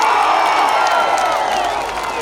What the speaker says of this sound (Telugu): గట్టిగా చప్పట్లు కూడా చెప్పండి, గెలిపిస్తామని